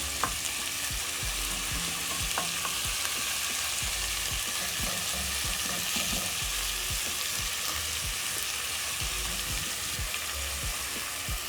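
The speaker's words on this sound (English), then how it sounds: "Then I'm going to let my meat sear." Beef sizzles and sears in a hot pan in a single layer, a steady dense crackle with occasional stirring scrapes, continuous and close throughout.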